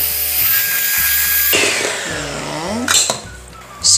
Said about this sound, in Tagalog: Okay, iset na muna natin si mixer sa low speed at i-whip natin ito for 2 minutes.